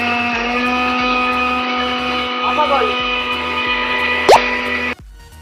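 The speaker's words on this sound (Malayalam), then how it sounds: "ഇനി നമുക്കിതൊന്ന് അടിച്ചെടുക്കണം നമുക്ക് അടിക്കാം" A mixer grinder blends banana and water in its jar for an Oreo shake, producing a loud, steady motor whine with a rhythmic pulsing underneath that cuts off abruptly near the end.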